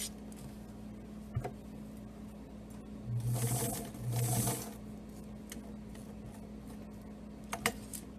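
A sewing machine stitching a Simplicity pattern runs in two short whirring bursts, close and steady, under a constant low hum with a few faint clicks around them.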